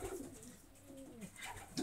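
Racing pigeons coo softly in a breeding loft, a few low murmuring calls rising and falling close by against a quiet background.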